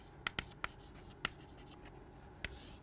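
Chalk or marker taps and short strokes on a board during a machine learning lecture, several sharp isolated ticks spaced unevenly over a quiet room hum, with no speech.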